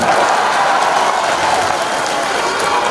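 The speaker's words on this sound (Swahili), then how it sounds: "Simpigie Raila Odinga makofi." A large crowd at a Kenyan political rally applauds in a dense, steady roar of clapping that holds at full loudness from start to finish.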